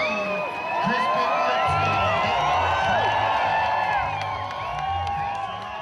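A large crowd at a snowboard halfpipe contest cheers, whoops and shouts continuously, loud and dense, with scattered claps and voices blending into a sustained roar that swells and eases slightly.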